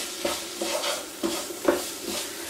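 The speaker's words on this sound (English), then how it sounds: "we'll continue to break it down once we've added it into the pan" Beef mince frying in a pan while being broken up for a pasta bolognese: a soft sizzle under a regular series of spatula scrapes and pushes, roughly two per second, close and fairly quiet.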